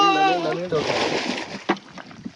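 A boat paddle dipping and pulling through water, a voice calling out briefly at the start before a burst of splashing and sloshing, followed by smaller splashes close by.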